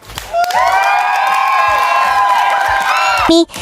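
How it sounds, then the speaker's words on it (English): An audience at a money-making seminar shouts out together in one sustained, loud chorus of voices lasting about three seconds before cutting off abruptly. "Now shout out."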